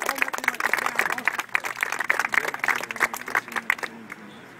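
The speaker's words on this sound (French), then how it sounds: "je voudrais qu'on applaudisse notre ami Abdelmel Talal" A school audience at a fiftieth-anniversary celebration applauds a mathematician, a dense wash of clapping that runs steadily for several seconds before trailing off near the end, with a voice speaking faintly over the clapping.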